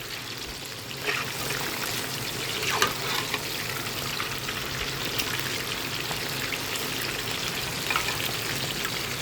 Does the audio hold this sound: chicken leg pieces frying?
yes